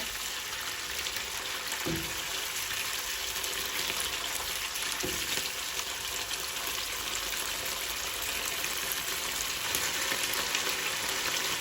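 Onion with ginger and garlic fries in a pan, a steady crackling sizzle running throughout, broken by two soft knocks of stirring; no speech.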